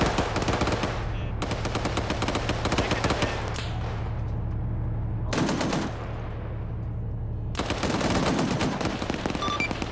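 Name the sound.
Bradley autocannon firing in a video game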